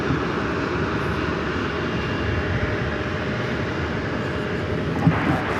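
An airliner on a flight to Miami, Florida, lining up on runway 19 at LAX, gives a steady, moderately loud jet engine roar that holds evenly throughout, with one brief bump near the end.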